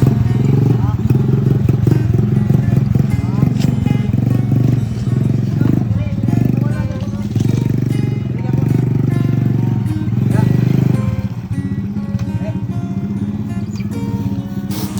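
A motorcycle rides a dirt trail, its engine a loud, close, steady low drone with rattling and clatter over rough ground, while a rider talks throughout over the motor noise.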